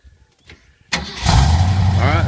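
A truck engine is cranked and catches, a short quiet stretch giving way to a sudden start and then a loud, steady rumbling idle close by.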